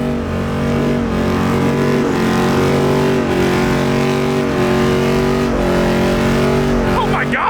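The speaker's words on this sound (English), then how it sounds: "The Jeep's doing a burnout." A Jeep doing a burnout at a car meet, its engine revving hard and steady for several seconds amid other loud engines, with people talking nearby.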